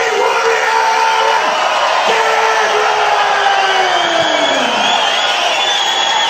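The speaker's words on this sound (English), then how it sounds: "Well, the crowd loves it." A loud arena crowd cheers and roars without a break for heavyweight boxer Shane Cameron, the Mountain Warrior and reigning WBO Oriental champion, as he is introduced before his fight with Brian Minto.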